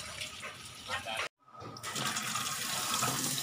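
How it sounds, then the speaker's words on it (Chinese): Fresh vegetables from a garden rinsed under running tap water, a steady splashing rush that cuts out briefly and then resumes, close and fairly loud. "把它这个根儿这儿洗一洗啊，洗一洗"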